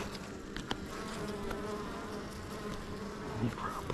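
Honey bees buzz steadily at close range as a beehive is opened and inspected, a continuous hum with scattered individual wingbeats passing near, and no talking.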